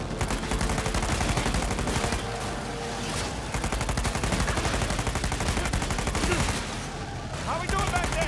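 Rapid, continuous gunfire in Uncharted rattles through a chaotic truck chase, with dense bursts of shots and automatic fire hammering nonstop, while voices speak underneath.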